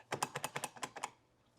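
Door keypad on a 2026 Newmar Summit Aire motorhome being pressed, about nine quick, crisp button clicks in an uneven rhythm, close and alone, then quiet.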